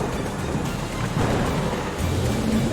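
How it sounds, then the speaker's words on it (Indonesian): A storm rumbles with thunder under steady rain, a dense, continuous roar with swelling low booms and no clear single crack. "Kilat menyambar di tengah awan hitam yang bergolak."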